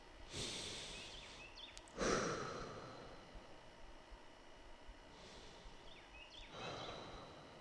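Slow, deep breaths during a standing meditation stance, heard as soft, close breathy exhales and inhales spaced a few seconds apart, with no talk.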